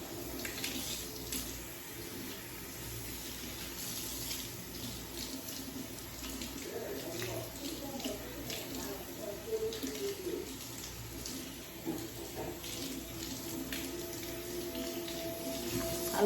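Cold tap water runs steadily, splashing as it rinses a raw Indonesian curly hair frontal: a continuous, fairly quiet hiss and patter with small shifts as the stream hits the strands.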